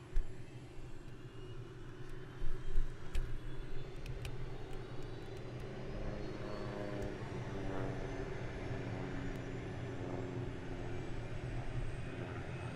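An aerobatic aircraft flies safety maneuvers such as a stall turn at a British aerobatics championship. A distant, steady engine drone slowly shifts in pitch as it passes, with wind rumble and no talk.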